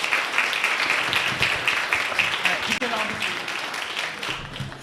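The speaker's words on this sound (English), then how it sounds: "Let's give the young people a round of applause" A crowd applauds young people at a civic engagement and voter education event in New Jersey, with steady, dense clapping filling the room throughout and some voices mixed in underneath.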